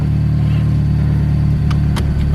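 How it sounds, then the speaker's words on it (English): A Nissan S15 on a test drive after an engine mount install runs with a loud, steady low engine drone, broken by a couple of sharp clicks or knocks near the end. "So now we're just going to take it for a test drive after I take it off the jacks."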